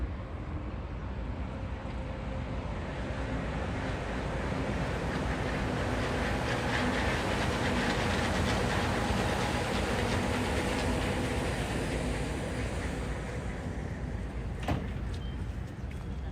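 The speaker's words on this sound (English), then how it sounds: "Oh, monorail. Red and black." A red-and-black Disney World monorail train passes at Magic Kingdom, a steady broad rushing rumble that holds for the whole stretch with no clear rise or fall.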